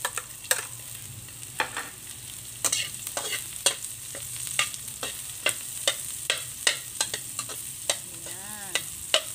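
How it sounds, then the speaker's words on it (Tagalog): Garlic, then onion, sautéing in a hot pan as the base for fried rice, with a steady sizzle and frequent sharp clicks of a utensil scraping and stirring against the pan, close and fairly loud throughout. "Gisa-gisa ang bawang."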